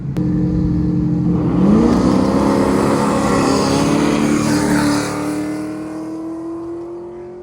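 A 1960s Ford Mustang V8 revs hard, its pitch sweeping upward and holding high and loud close by, then easing off into a falling, fading drone.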